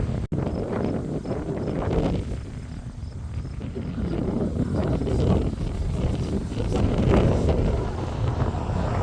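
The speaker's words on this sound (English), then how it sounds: "as you can see, the wind is blowing my way" Strong wind by Lake Ontario buffets the microphone with a steady, heavy roar and rumble, gusting slightly louder and softer throughout.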